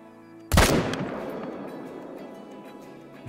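A single loud, close rifle shot rings out at a whitetail buck while hunting in Call of the Wild, a sharp crack followed by a long rolling echo that fades slowly.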